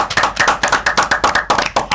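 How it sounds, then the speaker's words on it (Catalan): Audience applause following a singer's performance, close rhythmic clapping in an even beat, loud and alone. "Sí senyor, un aplaudiment!"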